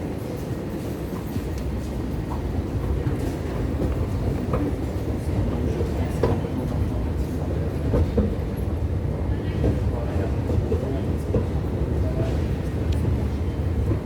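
Steady low rumble of a train at a large railway station, with faint rattling and clatter, continuous and fairly loud, with indistinct voices mixed into the background.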